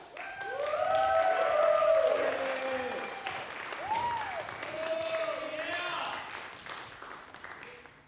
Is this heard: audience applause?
yes